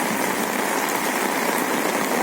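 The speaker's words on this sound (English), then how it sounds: "why heavy raining here?" Heavy rain pours down in a dense, unbroken hiss that stays loud and even throughout, with no voices.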